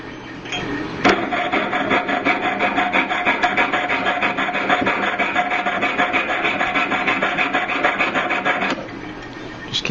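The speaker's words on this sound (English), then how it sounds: "keep running the saw blade through the join until you get it as close to flush as you can" A saw blade rasps steadily back and forth through the join of a hand-made hammered copper bangle, a continuous close scraping that starts after a sharp knock and runs for about eight seconds before stopping.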